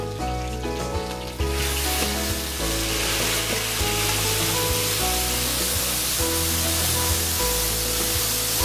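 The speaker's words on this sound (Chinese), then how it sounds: "下面我放入姜母、大葱段、桂皮、酱叶、大料，把它炒香" Ginger, scallion segments, cinnamon bark, bay leaves and star anise stir-fried in a hot wok, giving a loud, steady, close sizzle that surges early on and continues with stirring throughout, no voices.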